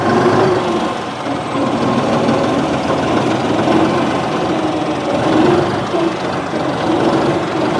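A New Holland 5620 CRDI 65 hp tractor engine runs steadily with a low, even rumble and faint mechanical knocking, continuous and close throughout.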